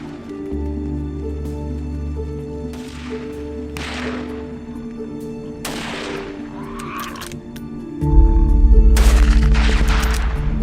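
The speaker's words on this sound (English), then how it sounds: "Gunfire erupted, sending the herd into a panic." Several gunshots crack out one after another, loud sharp bangs echoing over a steady low rumble, with heavier noise near the end.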